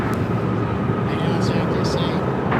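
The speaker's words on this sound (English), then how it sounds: "This is Emirates Flight 216 taking off to Dubai on the A380." Emirates Airbus A380 departing LAX runway 25 left, a steady loud roar of jet engines filling the whole stretch, with faint chirps on top and no talk.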